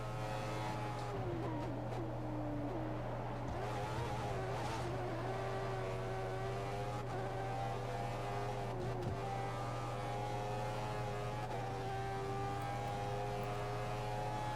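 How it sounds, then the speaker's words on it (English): F1 race car from the F1 2014 video game held at full revs, a steady high-pitched engine whine with layered harmonics, alone and continuous with slight pitch shifts. "The car behind is running on full revs."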